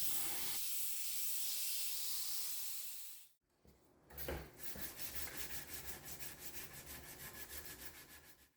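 A steel knife blade is sanded by hand, first a steady broadband rasp, then a short pause and a brisk run of rhythmic back-and-forth strokes, close and fairly quiet.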